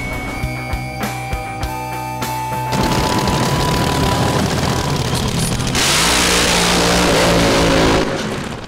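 AA Fuel dragster on a drag strip, first a loud idle of sharp rapid popping bursts, then a sustained deafening roar as the nitro engine opens up and keeps thundering without talk.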